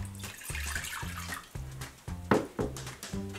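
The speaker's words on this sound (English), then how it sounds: "So you pour the water in the pot." Water is poured into a stainless steel or glass pot, giving a steady splashing and gurgling stream with a rhythmic low pulsing, moderately loud and close, with no voices.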